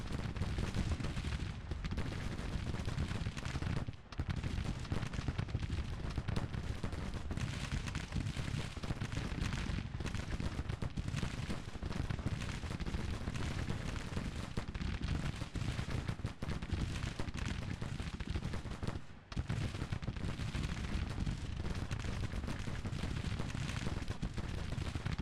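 Troops in a Civil War battle in the strategy game Grand Tactician fire continuously, making a dense, muffled roar of massed musketry and artillery that rolls on almost without pause, with a couple of brief dips.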